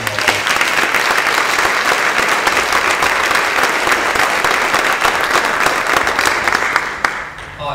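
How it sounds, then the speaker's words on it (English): Audience at a band camp announcements meeting breaks into steady sustained applause, a dense wash of clapping from a crowd that continues for several seconds before tapering off. "So if we can give a round of applause for Mrs. Arquetto for doing all that."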